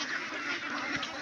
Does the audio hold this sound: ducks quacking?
yes